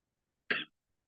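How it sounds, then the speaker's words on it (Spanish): A woman in the audience of a medical symposium gives a single short, muffled cough out of near silence. "No sé si se escucha en la transmisión eso, lo que tose su compañera"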